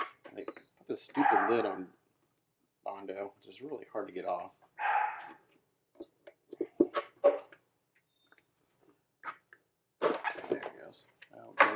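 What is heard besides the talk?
dogs whining and barking in the background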